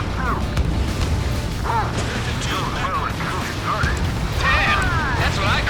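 Burning ships explode in the Ace Combat 7 flight game as a run of deep booms and rumbling blasts. Radio chatter from pilots talking runs over the top throughout.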